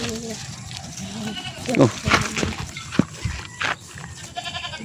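Goats on a farm bleating in short, scattered calls while feeding, a few near and fairly loud over a busy background, with a brief spoken exclamation.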